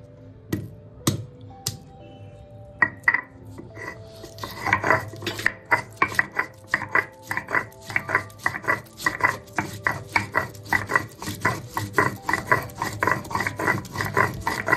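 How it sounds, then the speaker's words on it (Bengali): Cumin and ginger ground into a paste begin with a few scattered knocks, then settle into fast, rhythmic rasping strokes that repeat steadily up close, with no one speaking. "জিরে আর আদাটাকে বেটে নিচ্ছি।"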